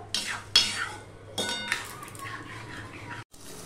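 Spatula scraping and stirring spice masala in a pan for a prawn curry, with several distinct metallic scrapes and clinks at close range over a faint background hum.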